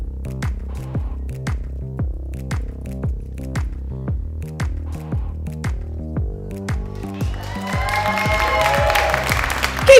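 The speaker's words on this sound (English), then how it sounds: "I hope that Elliot has your support in the form of a thunderous round of applause" Audience applause and cheering for a performer at an open-stage variety show swell up over the last two seconds, following a steady rhythmic music track with a regular beat.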